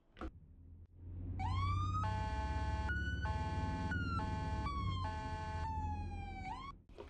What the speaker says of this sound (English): That is basic usage of sirens.